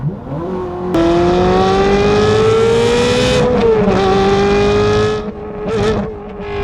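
A straight-piped Ferrari F430 with manual gearbox roars steadily as it accelerates through a long gear, the exhaust note rising then easing, loud and close with no talking.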